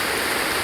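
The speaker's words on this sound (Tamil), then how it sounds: "இதாவது மழை பெய்யுது, எல்லாம் மிதந்து வருது" Heavy rain pours down on a rainy day in a Tamil village, a dense, loud, unbroken roar of rainfall and running water, close and alone.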